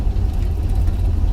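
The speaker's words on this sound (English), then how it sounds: "I'm out here warming up my truck right on time" A truck engine idles steadily while warming up on a morning, a low continuous rumble close by with no talking.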